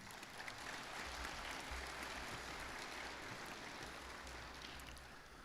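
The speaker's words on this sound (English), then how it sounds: "I would like to hear a round of applause for the LAMSFA" Audience at a state firefighters association convention clapping in a sustained round of applause, fairly distant and even throughout, with a low rumble underneath and no voices on top.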